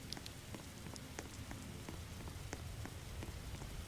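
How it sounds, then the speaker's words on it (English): Rain pattering steadily in the Roblox game Dead Rails, a dense even hiss of drops with scattered sharper ticks, moderately close and uninterrupted, with no voices. "And then you can notice it is raining"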